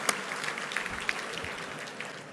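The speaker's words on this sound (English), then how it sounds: "let's give all of our exhibitors a round of applause" Audience applause at a transportation summit luncheon honoring the exhibitors, a steady, fairly faint wash of clapping from a crowd, continuous throughout with a few sharper claps standing out.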